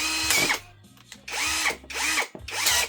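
A cordless screwdriver whirs in three short bursts with pauses between them, its motor pitch rising and falling as each burst spins up and winds down, close and clear with no talking.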